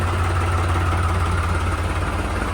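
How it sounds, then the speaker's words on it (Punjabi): A new New Holland 3600-2 farm tractor engine runs at a steady idle, a close, loud, even diesel rumble with a low throbbing pulse and no talk. "ਅੱਜ ਆਪਣੇ ਬਾਈ ਨੇ ਟਰੈਕਟਰ ਲਿਆ ਆ ਬਾਈ ਨੇ ਪਰਵਿੰਦਰ ਨੇ"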